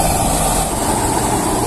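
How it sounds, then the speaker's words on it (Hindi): Sonalika Tiger tractor engine running steadily near a straw-filled trolley, a loud continuous low rumble with broadband mechanical noise throughout, no speech. "ये दूसरा ट्रैक्टर आ चुका है भाई।"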